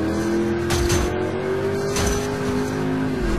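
A Pontiac in the Driver San Francisco game drives at speed with a steady, loud engine drone and revving, tire noise and occasional thumps running throughout, with no talking.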